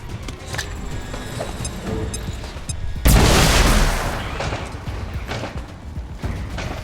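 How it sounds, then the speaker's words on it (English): An explosive device detonates in XCOM 2, one sharp loud blast mid-clip that rumbles and decays over about a second, set against continuous busy game ambience and scattered clicks. "you're going to use a perfectly placed explosive device"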